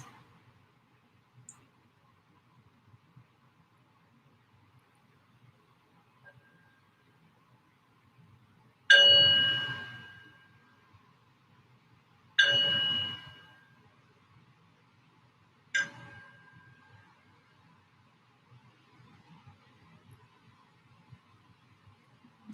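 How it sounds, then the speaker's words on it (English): A meditation bell is struck three times at the start of a yoga practice, each clear metallic ring decaying slowly into near silence between strikes. "as I ring the bell to invite us into our practice"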